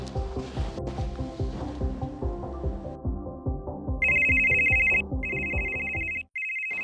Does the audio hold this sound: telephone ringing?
yes